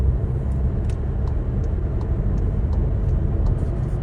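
Steady engine rumble and road noise fill the cabin of a car driving home, a constant low drone throughout with faint ticking clicks and no voices.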